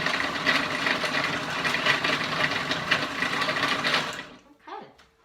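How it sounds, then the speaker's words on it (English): A food processor whirs steadily for about four seconds as it mixes dough into a ball, then cuts off abruptly and leaves a brief quiet tail. "You want the food processor to mix it around and it's going to form a ball."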